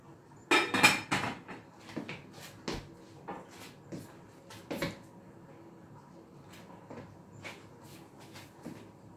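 A lid clatters onto a pot of mussel soup, with a cluster of sharp metallic clinks and knocks followed by a few scattered quieter taps in a quiet kitchen.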